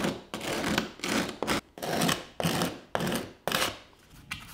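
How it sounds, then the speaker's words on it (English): A sanding block rasps back and forth to round the corners of an aluminum skid plate for a skateboard, in steady repeated strokes of about half a second each, close up with no talk. "Now I'm using a sanding block and I'll round the corners just a little bit."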